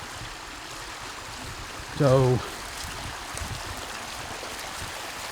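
Rainwater from a night of heavy rain flows through a pond with a steady, low rushing and trickling sound, interrupted briefly midway by a short spoken word.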